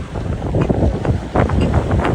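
Steady wind buffets the microphone outdoors on a breezy day while walking through downtown Regina, a continuous rushing roar with gusty swells and no talk.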